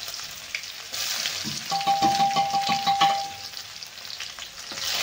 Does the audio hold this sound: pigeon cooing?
no